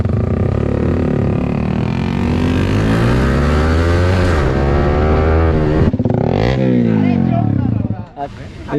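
A motorcycle with an SC Project aftermarket exhaust revs loud and close. Its pitch climbs and falls in repeated swells, then drops off near the end, with crowd chatter in the background.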